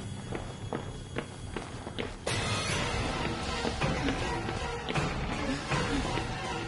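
Heavy stomping footsteps in the horror game Outlast thud at a steady pace, then give way to a louder, denser rumble of running steps and banging.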